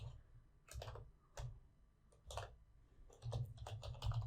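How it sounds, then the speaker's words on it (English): Typing on a computer keyboard while setting up Eclipse for Python, a few short clusters of soft, close key clicks separated by brief pauses over a low hum. "Now type something like print"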